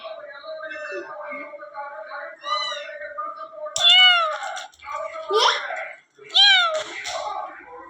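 A kitten separated from its mother meows repeatedly in high, rising cries, close and fairly loud, with short pauses between the calls.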